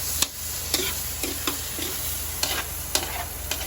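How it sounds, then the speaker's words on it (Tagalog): Vegetables and fatty meat sauté in a pan for ginisang gulay, with a steady loud sizzle and regular scraping stirs of a utensil every half second or so, close by and with no voices. "nagluluto na ngayon si Britney ng gulay"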